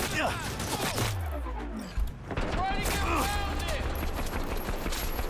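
Smart gun burst fire and charged shots ring out in Cyberpunk 2077 combat, several rapid volleys with low thuds, beeps and whooshing effects, loud and close, with a voice talking over parts of it.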